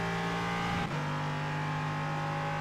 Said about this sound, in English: Ray Dormer rapidly approaching us in the GTP class car